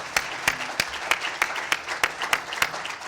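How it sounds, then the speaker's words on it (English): Applause from attendees at an education conference: a steady wash of clapping with distinct sharp claps popping out at a regular beat, moderately loud and unaccompanied by talk. "I'd like to see us all give another big round of applause to Brian."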